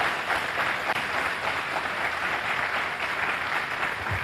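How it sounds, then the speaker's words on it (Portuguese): A church congregation claps together during a worship service, producing a steady wash of applause that holds at a fairly even level for the whole stretch, with no talk heard over it. "Vamos aplaudir o nosso Deus bem forte"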